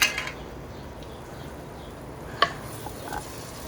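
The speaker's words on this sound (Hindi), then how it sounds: "थोड़ी देर भूनेंगे ताकि अच्छी तरह से जो प्याज हैं वो अच्छी तरह से गल जाएं, मैश हो जाएं।" Chopped onions fry in a pan with tori (ridge gourd) sabzi while being stirred, a steady low sizzle with a few light scraping clinks of the spoon against the pan, with no talking.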